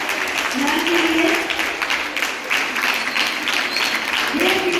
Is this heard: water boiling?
no